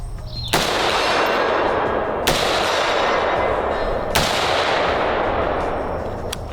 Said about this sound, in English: unsuppressed, Great Lake Firearms, AR-10, rifle length gas system